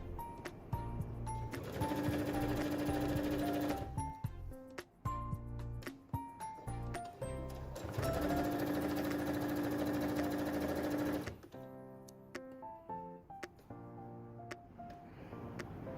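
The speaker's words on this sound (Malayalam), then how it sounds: "ഫുള്ളായിട്ട് നമുക്ക് സ്റ്റിച്ച് ചെയ്തെടുക്കാം" A sewing machine stitches pieces of fabric cut from old clothes, running in loud continuous whirring bursts with short pauses between seams and a steady mechanical hum, with no talking.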